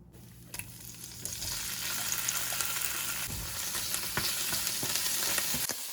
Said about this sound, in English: I added the ginger and garlic paste. It made it really angry.